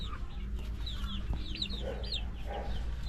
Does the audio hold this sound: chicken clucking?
yes